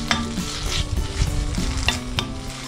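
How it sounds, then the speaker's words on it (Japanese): Bacon sizzling in a frying pan: a close, steady crackle and hiss of frying fat, with a few sharp pops and the occasional scrape of stirring. "フライパンにベーコンを入れて炒めていきます。"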